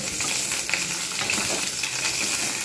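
Onion frying in hot soybean oil for a bitter gourd and potato mash, a steady dense sizzle with occasional crackles and faint stirring, close and continuous throughout.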